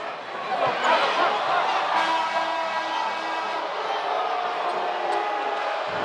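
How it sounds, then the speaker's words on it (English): A basketball arena crowd at a Hawaii vs UC Davis game reacts with disapproval to a foul call, a loud, sustained roar of booing that slowly eases, with a commentator's voice underneath. "Crowd doesn't like it."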